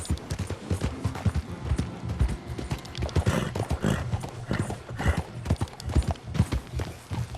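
Horse hooves clip-clop steadily along a narrow pathway in the game Red Dead Redemption 2, a continuous close rhythm of hoof strikes with no talk.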